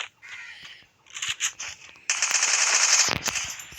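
Rapid automatic gunfire in a shooter video game, bursts of crackling shots building into a dense sustained stream, fairly loud and close with no talk over it.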